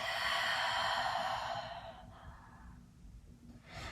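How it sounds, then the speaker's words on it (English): A deep, full exhale during a yoga flow, a long breathy rush that starts strong and slowly fades over a couple of seconds, followed by quieter breathing and a short final breath near the end. "One more full breath out."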